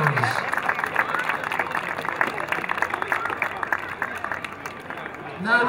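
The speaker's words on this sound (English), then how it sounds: "Let's have a long round of applause for the coaches and the players." A large outdoor crowd at a youth baseball league opening day applauds steadily and loudly for coaches and players, dense clapping with cheers and chatter mixed in throughout.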